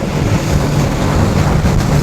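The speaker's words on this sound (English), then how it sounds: "Let me open up the throttle fully and trim the engine" An Axopar 28 Cabin motorboat, a 2018 model, runs at full throttle with a following wind, giving a steady loud roar of engine, rushing water and wind buffeting the microphone, with no talk.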